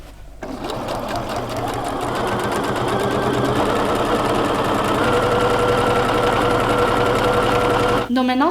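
A sewing machine stitches a dress seam in a steady, loud, fast mechanical whirr that runs nearly unbroken for several seconds before stopping abruptly, with a person talking over it.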